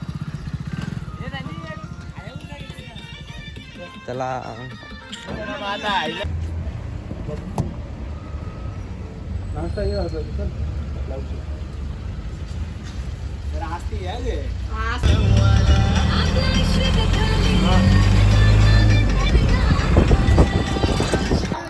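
A car drives along at a bullock cart race ground, its engine rumbling steadily under people talking and crowd noise, growing louder and fuller in the last several seconds.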